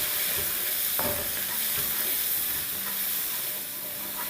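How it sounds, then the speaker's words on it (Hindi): Spices with cumin, coriander, Kashmiri chili powder and garam masala roast in a pot, a steady close sizzle with a sharp clink early on and occasional stirring scrapes. "और अब इसको हिलाएंगे।"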